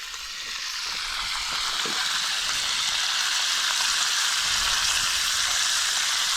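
Trout and bream frying in canola oil in a pan over an open fire, a loud, continuous bright sizzle close by, steady throughout with faint crackle underneath and no talk.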